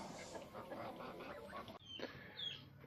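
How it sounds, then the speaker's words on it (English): Geese and other poultry honk and call at a backyard poultry feeder made from a wheelie bin, a steady overlapping chorus of cackles with a few sharper, higher calls toward the end. "Here you can see the geese"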